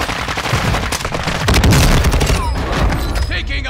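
Loud, dense automatic gunfire in Modern Warfare II multiplayer on Ashika Island, rapid bursts and overlapping shots with booming impacts filling the whole stretch, no talking.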